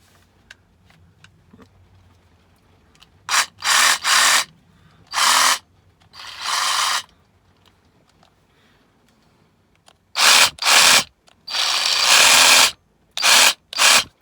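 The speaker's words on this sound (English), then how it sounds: "I'm gonna cut some stuff with that." An Evolution reciprocating saw cuts material in loud, harsh bursts of a second or two each, some short and some longer, with quiet gaps between them.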